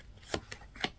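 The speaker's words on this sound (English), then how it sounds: "As I'm shuffling out your cards, I invite you to take some deep breaths." Three quick papery riffles of cards being shuffled, close and soft, evenly spaced within about a second.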